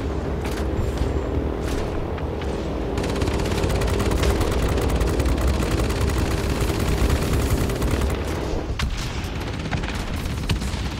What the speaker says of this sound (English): Apparently we just took out an aircraft with our guns.